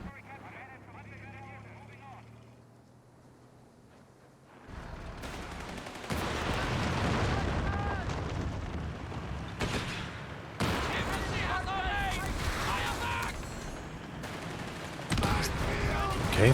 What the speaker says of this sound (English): Grenade launchers hitting pretty well